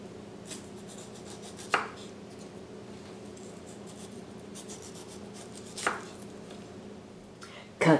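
A knife chops peeled ñame into chunks on a cutting board with three separate firm knocks, spaced a few seconds apart, against a quiet steady background hum.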